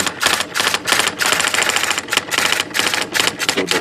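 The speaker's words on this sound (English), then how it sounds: "let's watch this thing print out in memory. It's bi-directional too, so it goes and types the opposite direction" A Sears Swintec 8016 electronic memory typewriter prints bi-directionally from memory, with rapid, loud, continuous key strikes broken by short regular pauses as the carriage reverses direction.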